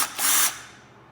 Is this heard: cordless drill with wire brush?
yes